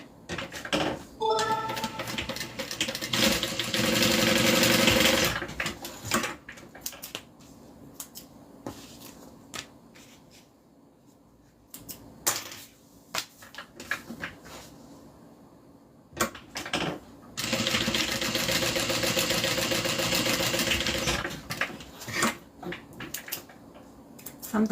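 Sewing machine stitching a passport holder, with two loud sustained runs of machine stitching at the start and near the end and quieter handling noises and clicks in between.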